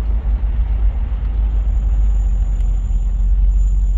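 A Lincoln Mark IV's engine rumbles deep and steady from inside the car while driving, a continuous low drone with road noise and no talking.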